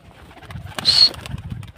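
Pigeons coo softly and close by, a short burst of birdsound with a brief rise midway over quiet background rustling, no one talking.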